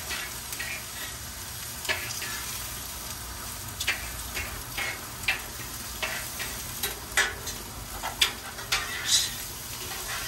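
Zucchini and onions sizzle on a Blackstone griddle for home hibachi, a steady hiss under repeated sharp spatula taps and scrapes as the vegetables are mixed, close and fairly quiet, no talking.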